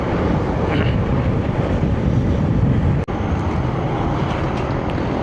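Steady, loud wind buffets the microphone while riding a motorbike, a continuous roar with a brief cutout near the end, no talk.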